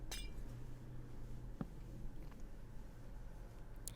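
Glass blocks being placed in a block-building video game: a few faint, brief clicks and taps, spaced apart over a low, quiet background hum, with no talking.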